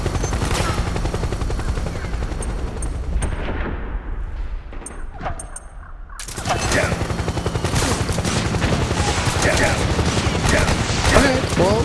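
A heavy PMC airstrike in the video game Metal Gear Solid 4 unleashes dense, continuous gunfire and explosions, loud and sustained with a brief lull midway before the barrage resumes.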